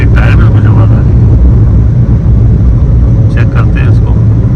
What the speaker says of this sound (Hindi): टायर में कुछ आवाज़ आ रही है